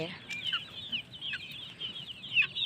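Several adult chickens cluck and chatter in quick, high, overlapping calls, moderately distant and fairly quiet, with no talking over them.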